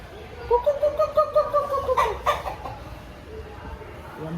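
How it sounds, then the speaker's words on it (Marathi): A rooster crows in the morning, one drawn-out call rising and falling over about two seconds, fairly close, followed by quieter outdoor ambience with no speech. "आमचा कोंबडा सकाळ सकाळी उबलतय."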